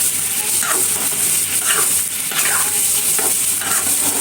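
Curry of dried molai fish with eggplant and potato bubbling in a pan, a steady close sizzle broken by several rhythmic scraping stirs.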